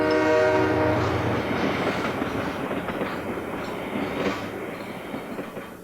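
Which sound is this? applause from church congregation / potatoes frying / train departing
train departing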